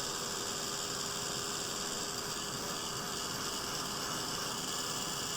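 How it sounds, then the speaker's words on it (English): Heat tool blowing steadily over wet paint to dry it, a constant whooshing hiss with an electrical hum, close and loud throughout with no talking. "let's see if we can speed the process up a bit with the heat tool"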